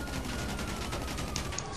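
Gunfire in a Grand Theft Auto V store-robbery session: a rapid, continuous fusillade of automatic shots at moderate, slightly distant level, running steadily without pause and with no talk over it.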